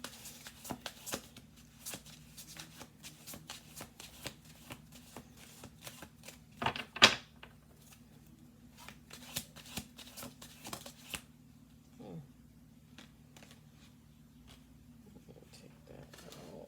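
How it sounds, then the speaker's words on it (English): Tarot cards shuffled by hand in quick riffling bursts at a table, soft papery flutters and taps coming in uneven clusters, with a sharper snap midway and faint background noise. "We're going to do 2 more shuffle throughs"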